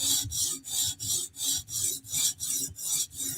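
A Chris Reeve Sebenza knife blade is drawn across a stone on a TSProf guided sharpener, making nine or ten even rasping strokes in a steady back-and-forth rhythm, close and clear with no talking.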